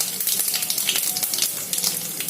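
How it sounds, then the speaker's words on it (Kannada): Mustard and cumin seeds crackle in hot ghee, a dense close sizzle with quick irregular pops running steadily throughout. "ಈಗ ಸಾಸಿವೆ ಜೀರಿಗೆ ಹಾಕೊಂಡ್ಬಿಡೋಣ. ನೋಡ್ರಿ ಚಿಟ್ ಅಂತ ಇದೆ."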